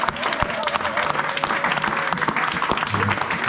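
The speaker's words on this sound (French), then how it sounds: "nous allons encore acclamer très très fort le roi des rois" A church congregation claps hard and cheers during a worship service, a thick continuous wave of applause with voices mixed in, steady and close throughout.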